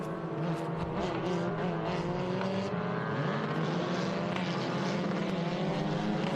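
A pack of F4 U.S. race cars runs a formation lap at VIR, engines droning in layered, steady tones that rise and shift as the field rolls past at moderate distance.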